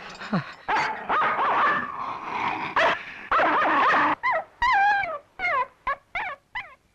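A dog barking close by in a house setting, a run of sharp barks and yips that turns into quick, rhythmic yelps toward the end, with no talk.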